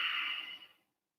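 A single soft exhale through the nose or mouth during yoga practice, breathy and close, fading out within a second into silence.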